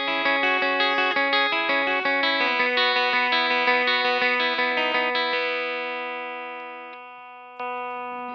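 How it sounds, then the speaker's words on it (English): A bass guitar runs through a Matmul T Classic pedal straight into an amp, playing bright, sustained chord-like notes in a steady pattern that ring out and fade, then one more note struck at the end. "So the Matmul T Classic straight into the amp sounds like this."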